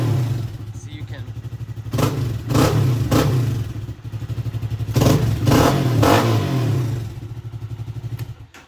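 A Lifan Xpect motorcycle engine idles with a close, rhythmic thumping and is revved several times in short bursts after a valve adjustment, and someone talks over it.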